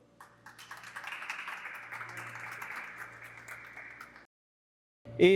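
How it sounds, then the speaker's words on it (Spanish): Audience applause for a doctor after a talk on flexible organic transistors, a dense, even clatter of many hands that swells and holds for about four seconds before cutting off abruptly into silence. "démosle un buen aplauso al doctor"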